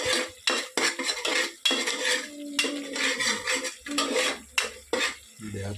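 Rice fried and stirred in a pan, with repeated loud scrapes and clinks of a metal spoon against the pan over a light sizzle, rhythmic bursts close by and no talking.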